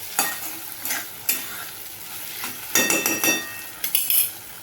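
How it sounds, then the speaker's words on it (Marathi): Field beans (pavta) sauté in a spice masala in a pan, with soft continuous sizzling and several sharp scrapes and clinks of a spoon stirring. "हे बघा पावटा छान असा परतलेला आहे मसाल्यामध्ये"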